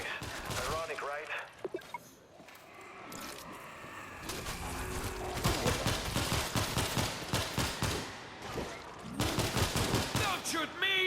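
Gunfire in the World War Z video game, set during a siege in Marseille, comes as bursts of rapid automatic shots and scattered single cracks mixed with shouted voices and game effects, growing denser toward the end.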